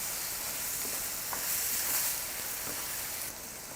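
Chopped vegetables sizzle and fry in hot oil in a pan for lasagna, a steady close, dense hiss with faint pops and spatters throughout and no talking.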